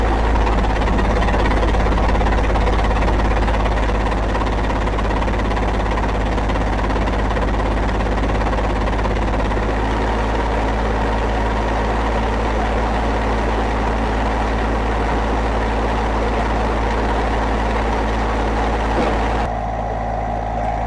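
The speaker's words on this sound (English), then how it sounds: "you can hear the engine start to run much smoother" A small tractor diesel engine runs steadily at idle after a fuel problem is fixed by bleeding the fuel system, a low continuous rumble that stays even, then briefly shifts near the end.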